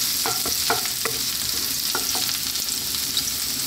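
Ginger sizzling in hot oil in a wok for a Filipino pork stir fry, a steady bright crackle with a few sharp spatula scrapes and clinks near the start.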